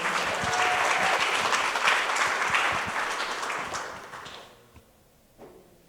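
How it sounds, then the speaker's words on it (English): Audience applause for a performer at a Two Spirit/Indigiqueer showcase, steady and full for about four seconds before thinning out to a few scattered claps. "Please give it up for Maribel Martinez."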